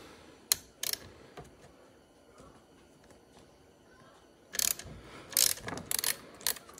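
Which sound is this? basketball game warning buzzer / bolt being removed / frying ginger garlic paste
bolt being removed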